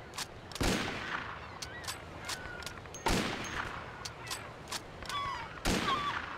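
Gunfire in the gangster game Mafia comes as three heavy shots spaced a few seconds apart, with scattered lighter pops and faint chirps in between.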